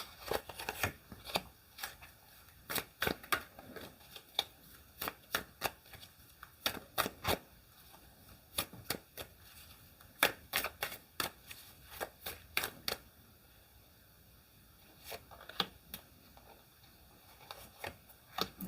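Tarot cards shuffled by hand at close range, with crisp riffling bursts in irregular clusters separated by brief pauses, and no talking.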